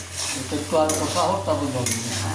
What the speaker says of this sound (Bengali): মশলাটা অলরেডি আমাদের কষে গেছে এবার আমরা ফুলকপিটাও দিয়ে দিলাম